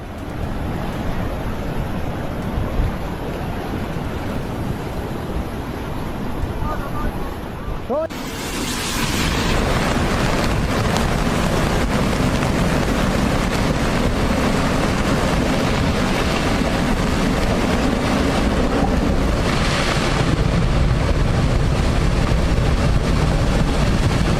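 Rough sea waves crash in a loud, sustained roar, with a sharp surge of water about a third of the way in, followed by continuous heavy rushing and churning.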